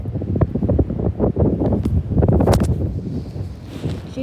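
Strong gusts buffet the microphone on a windy, rainy day, low rumbling bursts that surge and drop in irregular pulses, loud and close throughout.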